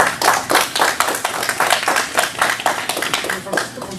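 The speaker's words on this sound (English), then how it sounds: "Let me give you a round of applause." A single person claps steadily for a few seconds at a village board meeting, quick close claps in a fairly even rhythm.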